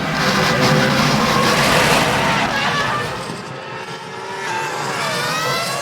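Formula 1 cars from the 2005 season race around the Nürburgring, their loud engines whining and roaring past in a continuous blur, with commentary talk running over the top.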